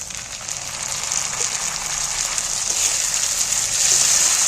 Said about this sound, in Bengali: আবারও আমি টমেটোগুলোকে ভেজে নেব। একই সাথে পেঁয়াজগুলোর সাথেই ভেজে নেব।